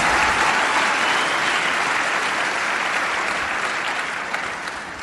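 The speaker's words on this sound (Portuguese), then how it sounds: "você deveria dar um aplauso bem forte a esse Deus" Loud, sustained applause fills a church worship service, a dense steady wash of clapping from a congregation that holds strong for the full stretch and eases only slightly toward the end.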